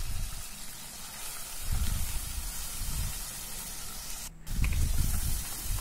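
Vegetables fry in a pan with salt: a steady, close sizzling hiss that swells and eases in waves, with no talking.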